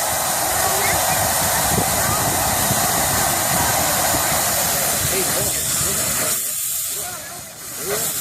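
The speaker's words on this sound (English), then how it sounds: "It's going to blow off some excess steam." Safety valve on a 1911 Cagney steam locomotive in Cheyenne, Wyoming blowing off excess steam in a loud, continuous roaring hiss that holds steady before easing slightly near the end, with faint voices beneath.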